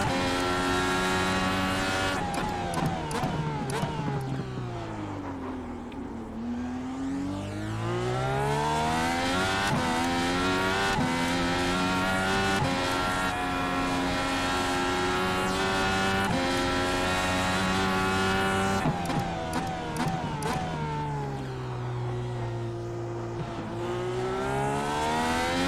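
IndyCar race cars in an iRacing race at Sonoma, with loud, continuous engine tones rising and falling in pitch as the cars accelerate, brake and shift, several engines overlapping throughout.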